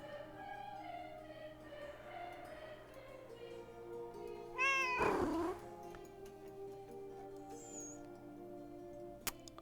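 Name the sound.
cat meowing in the video game Book of Hours: House of Light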